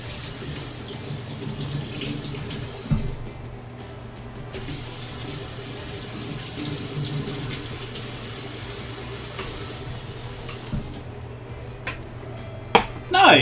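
A kitchen tap runs steadily into a sink while something is washed, a constant close rush of water with occasional clatters and a sharp knock near the end.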